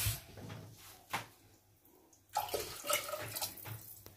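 About 1.5 litres of water poured into a container, a few bursts of splashing and running water separated by quiet gaps, the longest pour coming near the end.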